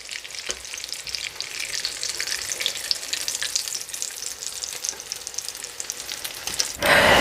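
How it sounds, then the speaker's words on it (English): Steady, dense sizzling of potato and mince cutlets frying in hot oil in a pan, continuous and close, with a louder burst of sizzle right at the end. "I'm going to continue frying the rest of them"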